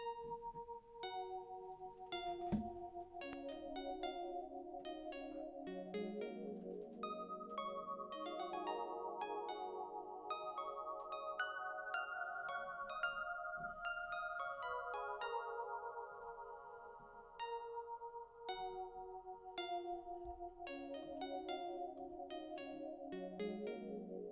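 A bright, bell-like synthesized melody plays over sustained chords, with quick plucked notes flowing steadily, moderately loud and without any voices.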